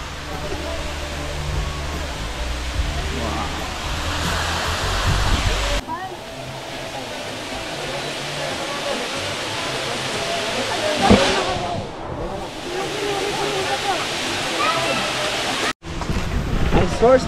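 Water rushes steadily at Can-umantad Falls, where underground spring water flows out from the foot of a forested mountain; a broad, continuous roar with wind buffeting the microphone and occasional voices nearby.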